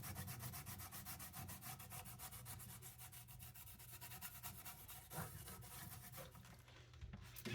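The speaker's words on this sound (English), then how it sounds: "I got a Scotch-Brite pad, and I'm just going to scrub it a little bit and get rid of all that old gunk" A Scotch-Brite pad scrubs old gunk off a pinball machine part in rapid, even back-and-forth strokes, close and steady throughout with no talking.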